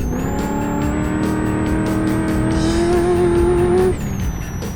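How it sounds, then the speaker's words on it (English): A V8 off-road race car roars loudly on a dirt course, its engine holding a steady high-revving note that climbs gradually before easing off near the end, with faint tire noise beneath and no talking. "This is basically what I'd call the V8 supercar of off-roaders."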